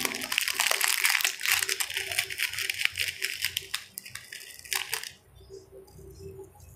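Pork Shanghai filling is stirred and mashed by hand, giving moist squelching and sloshing that stays close and fairly quiet before dropping off near the end.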